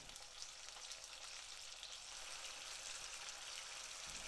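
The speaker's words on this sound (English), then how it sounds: "Once all the chicken wings are in the pan, turn up the heat and let it sizzle." Soy sauce chicken wings with ginger sizzle and fry in a hot pan, a steady bright hiss with faint crackles, close and quiet, with no one talking.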